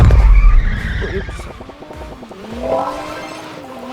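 A car in a racing video game speeding and skidding, loud engine roar at first then tire squeal and drifting engine tones, with a person's brief exclamation over the game audio.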